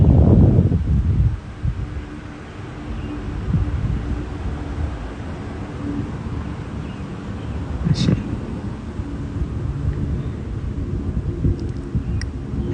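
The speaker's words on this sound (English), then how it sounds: "Appreciate the wind" Wind blowing outdoors makes a steady, low, broadband rumble, strongest and gustiest at the start and then settling into a constant breathy hiss with no voices.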